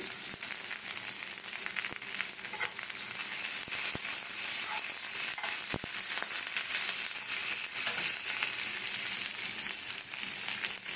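Whole cardamom, cloves and cinnamon sizzling in hot oil in a pan, a loud, continuous hissing crackle with scattered sharper pops, close and unbroken throughout, no voices.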